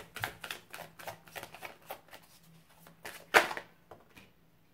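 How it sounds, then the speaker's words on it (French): An angel oracle deck is shuffled in a rapid string of crisp card riffles and flicks, then a single sharper snap as a card is drawn, close and fairly quiet, with no talking. "On tire une carte des anges"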